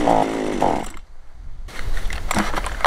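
A 25.4cc chainsaw engine starts with a loud buzzing burst, cuts out into a brief near-silence, then fires up again and keeps running close by.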